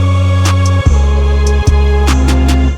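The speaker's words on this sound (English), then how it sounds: "It sounds like you are hitting something with a metal pipe or something like that." A heavily distorted, compressed Serum synth hit with a clanging metallic-pipe character, built as an instrument for a song, sounding loud and alone: three sustained booming strikes with bright overtones over a thick low drone.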